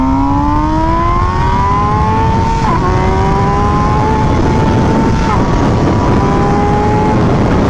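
MV Agusta Brutale naked motorcycle engine while riding, loud and close, with rising revving harmonics that drop at each gear shift around every two to three seconds, over steady wind rush.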